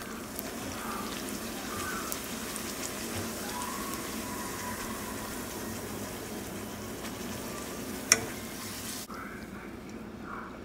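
Tortillas frying in hot oil for enchiladas, a steady, rain-like hiss and crackle throughout at fairly low volume, with one brief sharp tap near the end.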